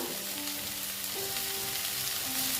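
Eggplant and potato frying in a pan, giving a dense, continuous sizzle that stays loud and even throughout, with no talking.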